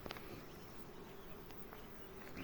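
Honey bees buzz steadily around their hives in an acacia-area apiary in the Alazan valley, a dense continuous hum close by with no talking.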